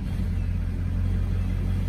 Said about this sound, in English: First time in a diesel truck. Ooh. Get to feel the diesel power. Crank him on up.